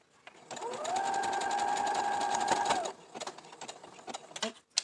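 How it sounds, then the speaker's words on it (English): A sewing machine stitches a fabric face mask, running steadily for about three seconds with a humming whir, then stops, leaving light clicks and handling sounds. "let the sewing machine finish doing its job"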